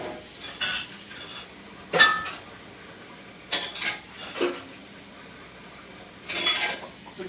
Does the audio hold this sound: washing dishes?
yes